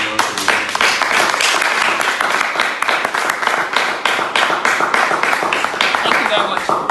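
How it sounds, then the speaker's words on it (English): An audience applauds loudly and steadily at a live Nigerian talk-show session, the dense clapping running throughout with speech mixed in underneath. "Please give her a round of applause."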